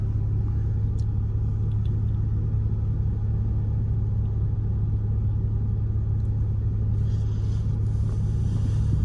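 A steady, deep Dodge Charger R/T engine rumble drones throughout, low and continuous, with faint traffic noise around it and no voices.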